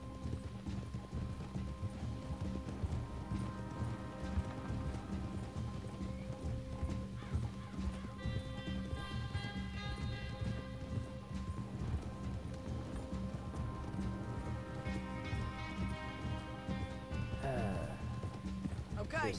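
Horses' hooves clip-clop steadily over ground in the Red Dead Redemption 2 video game, with occasional whinnies and characters talking over the rhythmic trotting.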